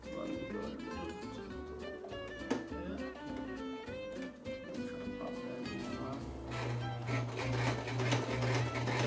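A sewing machine stitches a pillowcase at moderate speed, its steady mechanical whir and needle clatter close by, rising in intensity toward the end, with faint talk mixed in.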